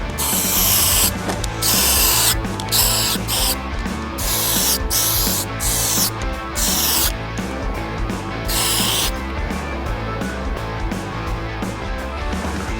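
An aerosol spray can hisses paint onto a car bumper outdoors in a series of short, loud, close bursts with brief gaps between, over a constant low rumble of background noise.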